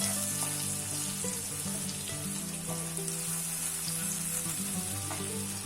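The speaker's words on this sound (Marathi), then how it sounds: "चॉप्ड ऑनियन्स आहेत ते देखील पूर्ण ट्रान्सपरंट होईपर्यंत किंवा कॅरेमलाइज होईपर्यंत छान फ्राय करून घ्यायचे आहे" Chopped onions and garlic sizzle steadily in oil while frying toward caramelization for a Goan prawn balchão masala, a dense continuous crackle with occasional utensil scrapes, close and loud, no talking.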